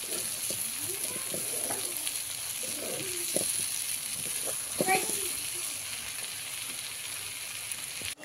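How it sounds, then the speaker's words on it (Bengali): Dal with tomato and spices frying over a wood-fired clay stove, a steady broadband sizzle running throughout with scattered stirring clicks and scrapes, fairly close and moderate in level, with faint voices in the background. "টমেটো দিয়ে সব মশলা দিয়ে একটু ভাজা নিব"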